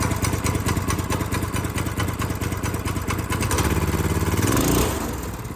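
A go-kart engine runs outdoors in over a foot of snow, a rapid buzzing putter that holds steady and then revs up briefly near the end before easing off, with no voices.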